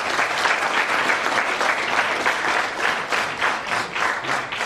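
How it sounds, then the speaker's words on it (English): Audience applause for a guest at an architecture design talk and installation event, a dense, steady wash of many hands clapping at once, sustained and fairly loud with no speech over it. "So big applause for our guest."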